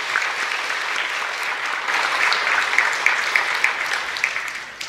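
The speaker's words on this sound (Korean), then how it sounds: "우리 한동홍 장로님에게도 감사의 박수 한번 드리겠습니다" Steady applause from a church congregation during a Korean Sunday worship service, sustained dense clapping filling the hall for about five seconds without pause.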